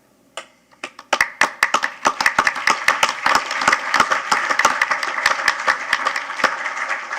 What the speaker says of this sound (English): we're going to give them all applause regardless if they could make it or not